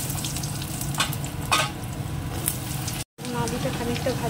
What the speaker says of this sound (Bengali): আলুটা খানিকটা ভাজা হয়ে গেছে